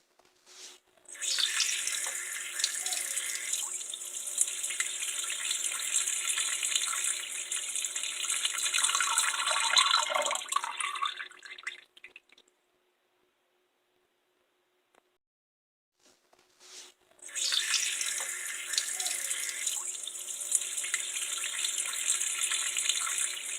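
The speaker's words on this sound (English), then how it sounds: "I wash it with soap and water." Tap water runs steadily into a sink during handwashing with soap, a loud continuous gush that stops for several seconds of silence and then starts again.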